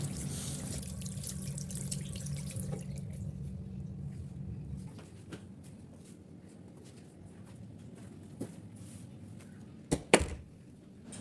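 A tap runs into a sink for handwashing and face washing, a steady gush that cuts off after a few seconds, followed by quieter drips and splashes and a couple of sharper knocks near the end.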